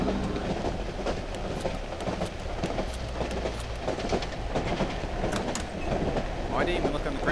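A train rolls along rails in the horror game Cry of Fear, giving a steady loud rumble with clattering wheels and occasional squealing metal for the whole stretch.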